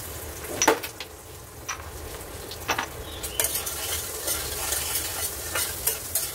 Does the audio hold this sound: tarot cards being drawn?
no